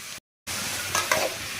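Carrot and beans poriyal stirred in a hot pan, a short burst of close sizzling and scraping broken by a brief dropout of silence.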